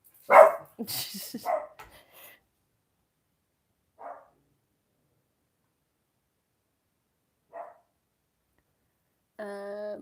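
A dog barks and yips near the start, then single short barks follow spaced apart amid quiet, ending with a whiny, whimpering cry.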